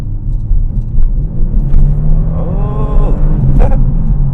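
A Kia Stinger GT2 sports sedan accelerating hard on a bumpy road, a loud deep engine rumble heard from inside the cabin, with a man's brief exclamation over it.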